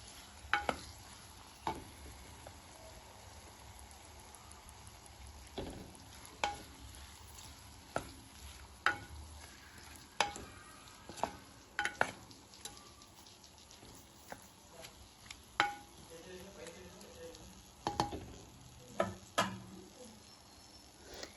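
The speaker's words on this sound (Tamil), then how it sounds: "இதை நல்லா கிளறி விட்டு வதங்க விட்டுறலாம்." A spoon stirs three chopped tomatoes frying in a pan for a dried-fish curry, making repeated sharp scraping knocks at an irregular rhythm over a faint, steady sizzle, close and fairly quiet.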